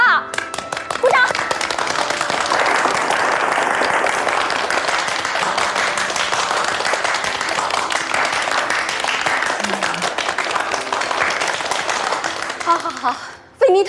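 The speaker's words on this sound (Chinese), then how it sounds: "鼓掌。" A group of people claps heartily together at a factory gathering in a drama scene, a loud, continuous patter of applause that runs unbroken for over ten seconds before stopping abruptly, with a few voices mixed in.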